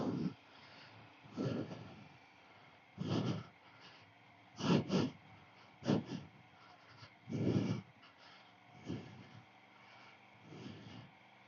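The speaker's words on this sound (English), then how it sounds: "If I'm breathing into the mic and making heavy breathing noises, sorry." Heavy breathing into a microphone after strenuous riding in sand, slow deep breaths and snorts recurring every second or two, close to the mic and fairly faint overall.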